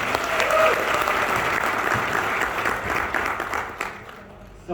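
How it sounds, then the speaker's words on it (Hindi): Lecture audience breaking into loud, sustained applause, a dense wash of clapping that runs nearly five seconds and thins slightly toward the end. "कितना जोरदार तालियां हो जाए।"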